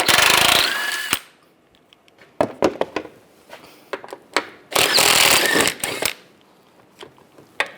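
Bolts being removed with a 15mm socket from under a 1999-2006 Chevrolet Silverado during steering shaft work, heard as loud bursts of ratcheting or power-tool whirring with sharp metallic clicks and clacks in between, close to the microphone.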